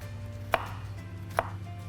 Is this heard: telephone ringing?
no